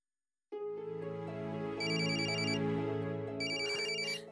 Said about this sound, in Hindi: उनका फोन आ गया।